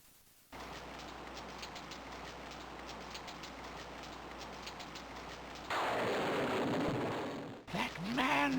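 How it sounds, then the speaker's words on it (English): Rain in the King's Quest VI game, a steady dense hiss of falling drops with a low rumble underneath, loud and continuous, turning to a harsher rushing wash near the end. "It starts to rain."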